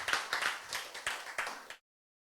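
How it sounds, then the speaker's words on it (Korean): Audience applause at a health lecture on late-stage lung cancer recovery, a dense burst of many hands clapping with rhythmic surges, fairly close, lasting nearly two seconds before cutting off abruptly. "그러니까 박수 소리 분위기가 다르죠?"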